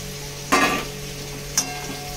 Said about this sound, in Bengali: আলুটা দিয়ে ভালো করে কষিয়ে নেব